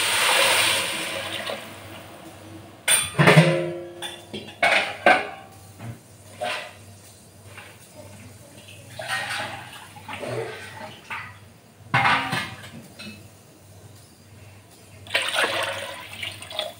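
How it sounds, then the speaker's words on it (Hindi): Water poured into a pot of roasted rice while cooking Gujarati pulao without onion, ginger or garlic, in several uneven splashing pours with short pauses between them and no talk. "अब इसमें मैं ऐड कर दूंगी पानी, जितना चावल है उस हिसाब से डबल पानी ऐड करिएगा।"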